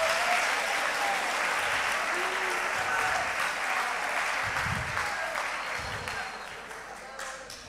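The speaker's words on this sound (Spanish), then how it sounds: "així que un fort aplaudiment." Steady applause from an audience at a human rights talk, dense and continuous for the whole stretch and fading slightly toward the end.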